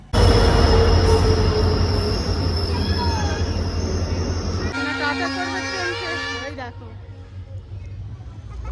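A train rumbles loudly along the rails with high, wavering wheel squeals that grow and then fade as it slows into a station.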